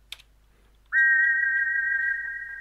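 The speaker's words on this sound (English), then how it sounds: "That's a peculiar sounding whistle." A shiny silver whistle in King's Quest 4 gives one long, steady, pure tone after a brief click, held loud and clear for well over a second.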